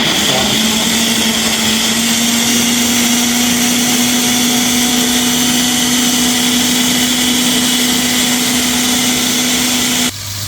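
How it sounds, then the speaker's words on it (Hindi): A blender runs loudly and steadily, blending onions with water, its motor whirring at a constant pitch for several seconds before cutting off at the end. "पानी डाल के तो मैं ब्लेंडर फेर लूँगा"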